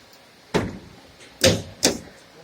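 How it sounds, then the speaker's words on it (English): A machine's access door, opened by a handle underneath, is lifted in a workshop with three distinct clunking bangs spaced about a second apart, each sharp and close, against quiet room tone. "You can lift the door."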